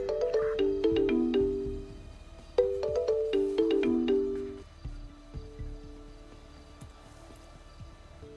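Phone ringtone in a German role-play video game, a loud repeating melodic tune played twice in quick succession, then fainter tones as it fades out.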